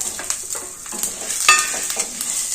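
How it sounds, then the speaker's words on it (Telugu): Onion frying in ghee, a steady close sizzle with light scraping and clicks from stirring, short and continuous with no speech. "ఉల్లిగడ్డ కూడా వేసి వేయించాలండి"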